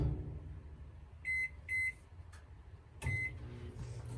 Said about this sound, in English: I'm going to throw that in the microwave to soften